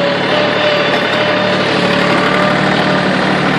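A John Deere tractor engine runs at about 1500 RPM while towing a broken-down truck, giving a loud, close, steady mechanical drone with a faint high whine.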